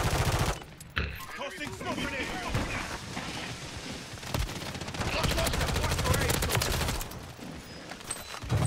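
Rapid gunfire bursts from a multiplayer shooter video game, dense and continuous over a busy mix with players talking over it.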